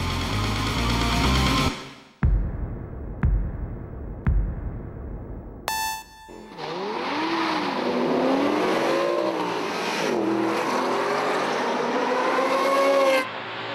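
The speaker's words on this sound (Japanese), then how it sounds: "木下ポルシェ、強烈な発進加速でトップの R8 に接近。" A Porsche race car launches hard off the start, its engine revving loud and rising through the gears over a rough, roaring exhaust, preceded by a few sharp mechanical knocks and bursts of track noise.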